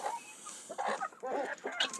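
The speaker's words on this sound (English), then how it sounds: "This is our big black astrolog cock." A big black Australorp cock on a poultry farm gives a run of short, close clucking calls in bursts, with brief gaps between them in the early morning.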